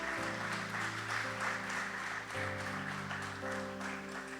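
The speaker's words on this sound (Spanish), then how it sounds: "Denle un fuerte aplauso al Señor," A church congregation applauds steadily for the Lord, a continuous mass of clapping over sustained organ or keyboard chords, with no talk on top.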